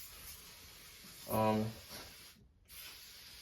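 A hand rinsed under running tap water while potting orchid seedlings in a perlite seedling starter mix: a short, close splashing spray of less than half a second, standing out from a quiet room.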